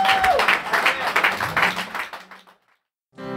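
A church congregation applauds and cheers loudly for about two seconds in a dense, steady wash of clapping, then falls silent before music begins.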